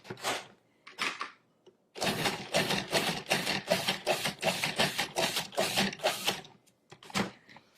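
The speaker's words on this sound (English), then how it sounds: "we're going to pulse that until it's finely chopped" A food processor pulses seeded tomatoes: two short bursts come first, then a run of rapid, evenly repeated motor pulses, loud and close, with no talking.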